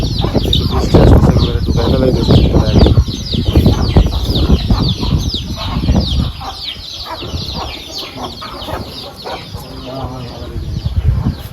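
Hens with chicks on a farm, loud close clucking and busy chirping with bursts of wing flapping, continuous throughout with brief talk mixed in.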